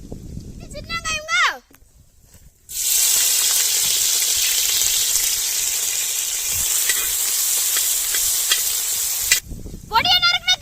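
Small onions sizzle and crackle loudly in hot oil in a steady, close frying hiss that lasts several seconds, with someone speaking before and after it.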